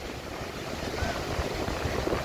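Sea waves wash on Vizag beach in the Bay of Bengal, a steady broadband roar of surf with gusty wind noise over the microphone and no clear breaking peaks, continuous at moderate level.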